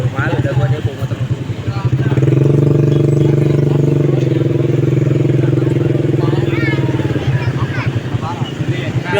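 A motorcycle engine drones steadily up close, rising to a loud sustained hum midway before easing off, with a person talking over it throughout.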